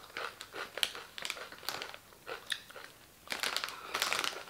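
Close-up crunching of plain snack chips, with crisp bites and chewing in irregular bursts, some louder crackles and a bit of bag crinkle.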